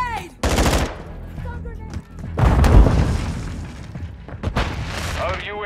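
Gunfire in Call of Duty: Modern Warfare II, loud automatic bursts and heavy shots arriving in clusters, with shouted voices and game chatter in between.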